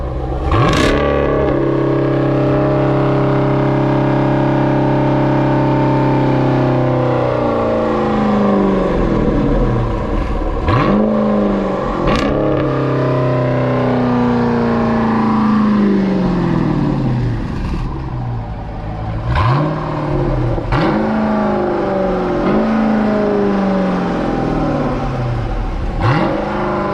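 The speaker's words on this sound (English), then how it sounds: "Corsa sound clean on that, man." SRT Jeep with a Corsa exhaust revving repeatedly, each blip rising sharply to a loud roar and falling back to a burbling idle, several revs in a row up close.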